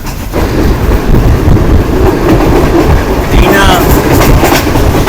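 The Green Line express train rushes at high speed past Dina railway station, a loud, dense roar of wheels and wind with rhythmic rail clatter, heard from on board.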